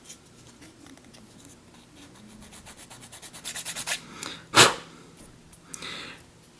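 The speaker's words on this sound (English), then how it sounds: "I'm going to start off by sanding this piece right here to make it a little smoother, flatter." Rhythmic rasping strokes of sanding a plastic model piece from a Space Marine Storm Speeder kit, speeding up and growing louder, then a sharp bright scrape and a softer final rub.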